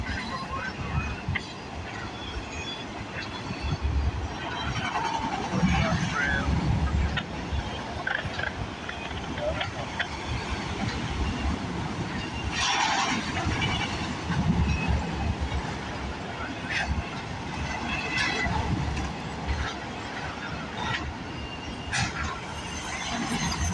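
A CN freight train hauling auto racks rolls past at Bronte Street in Milton, Ontario, with a continuous rumble and clatter lasting throughout and a few sharper squeals and bangs at moments along the way.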